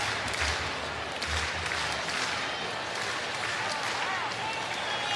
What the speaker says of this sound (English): This big crowd ready for a rally as Ian will take a strike.